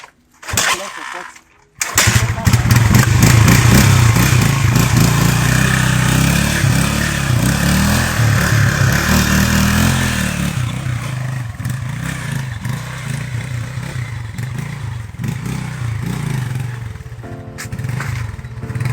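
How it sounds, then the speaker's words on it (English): A motorcycle engine drones loudly and steadily while riding on a rough road, with rattling and clattering over the bumpy surface throughout. "So here, my motorbike facing a lot of challenges."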